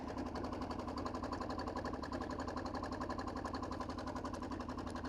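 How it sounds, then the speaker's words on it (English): A diesel motorcycle engine, a Kawasaki KLR, runs at a steady idle with a rapid, even knocking rhythm, close and constant for the whole stretch. "if your bike is not a diesel and it sounds like this"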